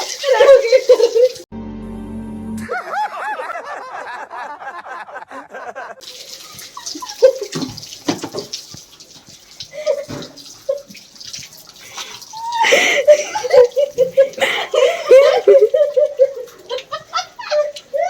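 Water filled and tipped out for washing at home, repeated splashing pours and running water, close and fairly loud, with voices talking and laughing in between.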